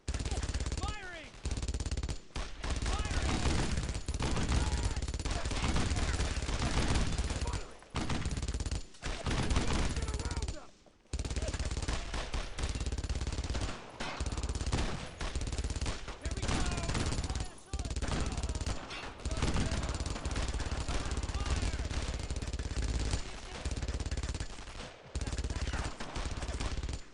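Continuous heavy machine-gun fire in the WWII shooter Brothers in Arms: Road to Hill 30, dense and loud bursts running almost unbroken for nearly half a minute with only short pauses between volleys.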